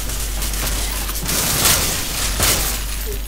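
Loud, continuous bursts of gunfire from the Free Fire mobile battle royale game, with a steady barrage and two sharper, louder blasts close up.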